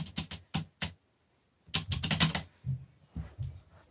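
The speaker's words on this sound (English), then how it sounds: "Roblox with my gaming keyboard." A gaming keyboard clatters in close bursts of rapid keystrokes during a Roblox session: a quick run of clicks, a pause, then a denser flurry and a few scattered presses, with no talking.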